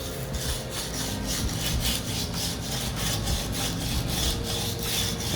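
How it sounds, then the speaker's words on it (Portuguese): A semi-moist ceramic piece is sanded gently by hand, giving a steady rhythmic scratchy rasp of repeated strokes, close up with no talking. "Percebam que eu estou lixando muito delicadamente"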